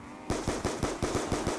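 Automatic gunfire in the Call of Duty: Black Ops 2 zombie mode, a rapid burst of about ten sharp, evenly spaced shots, loud and close, with no voices.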